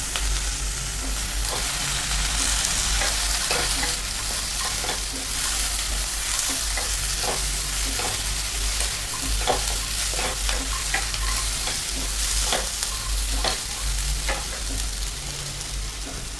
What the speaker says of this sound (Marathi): आता आपल्याला हे वांगे घालायचे आपण कापून घेतलेले.